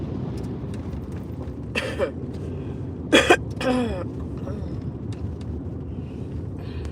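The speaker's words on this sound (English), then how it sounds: "See if it'll help this coughing" A few harsh coughs, one quick burst then a stronger double hack, over a constant low rumble of a moving car.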